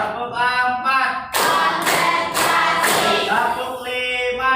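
A classroom of students clapping in a counted rhythm, a few loud bursts of many hands together separated by short pauses, with a voice leading the count in between.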